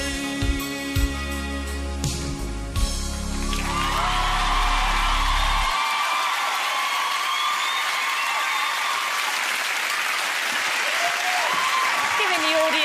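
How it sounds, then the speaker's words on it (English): A large television talent show audience breaks into loud applause and cheering with whoops, starting as music ends and continuing strongly for several seconds. "A little clap there"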